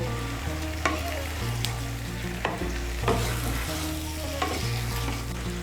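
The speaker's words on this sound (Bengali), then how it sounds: "ফুলকপিটাকে মশলার সঙ্গে ভালো করে মিশিয়ে নিয়েছি।" Cauliflower tossed with spices in a hot pan, a spoon scraping and stirring in short strokes every second or so over a soft sizzle, with steady background music throughout.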